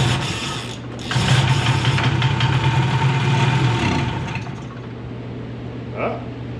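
A small two-stroke, two-cylinder engine on a tracked mini tank runs steadily close by, with a strong rising, revving stretch in the middle before it settles back to an even idle; a brief mechanical clank comes near the end.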